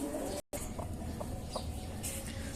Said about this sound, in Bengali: চলেন আপনাদেরকে আমার মুরগির বাচ্চাগুলো দেখাই